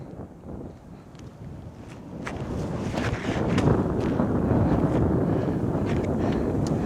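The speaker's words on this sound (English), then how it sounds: "We are throwing into a pretty mighty headwind at the moment." Strong headwind on an outdoor disc golf course, a rough buffeting roar of gusts against the microphone that swells louder midway and stays heavy, with faint scattered clicks.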